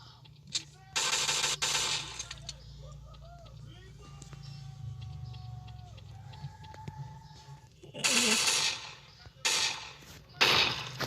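Gunfire from a shooting video game comes as short, loud broadband bursts, one early pair and a tighter cluster near the end, with quieter tonal game sounds and a person talking in between.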